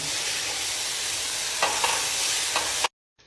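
Mashed garlic, grilled eggplant, paprika, curry spice and salt stirred together in a hot pan: a steady, close sizzle with a few soft scraping strokes, ending abruptly in silence.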